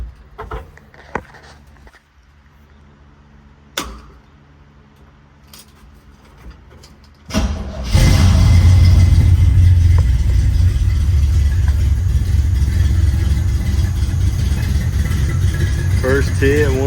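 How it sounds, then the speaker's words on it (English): A 1972 Chevy K10 4x4 pickup engine, freshly swapped, cranks briefly, then catches and roars to life, settling into a loud, steady rumble with some revving, close by. "We got this thing firing first click."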